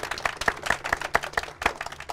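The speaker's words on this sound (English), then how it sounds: "Let's give her a big round of applause." Audience applause for a guest joining a talk show on the 2012 Dave Koz Cruise: a steady run of close, sharp handclaps from a crowd, lively and even throughout, with no talking over it.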